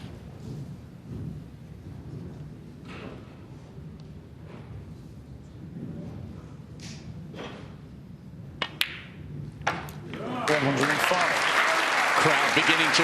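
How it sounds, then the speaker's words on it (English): A snooker crowd at the 2024 UK Championship applauds Zhang Anda's century break. A hushed arena with a commentator talking gives way to sudden, loud, sustained clapping that swells and fills the hall. "Crowd beginning to respond here."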